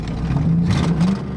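A junkyard 1966 V8 Mustang engine idles in park and rises into a brief, rough rev, with a low rumble and a wavering tone that climbs and falls.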